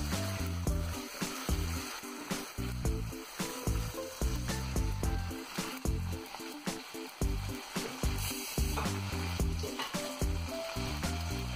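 Tomatoes and other ingredients for a quail egg stir fry sauté in a pan, a steady close sizzle with light stirring and scraping, with no talking.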